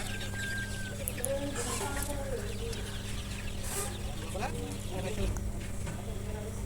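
Broiler chickens, 42 days old, cluck and squawk in a farm shed as they are caught by hand, close and busy over a constant low mechanical hum, with someone speaking among them.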